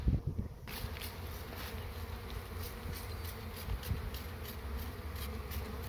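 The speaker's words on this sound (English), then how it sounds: "now you're going to have to shake these bees" Honey bees being shaken from a frame into a hive give a dense, close buzzing drone that swells after an opening knock and continues steadily, with faint tapping bumps underneath.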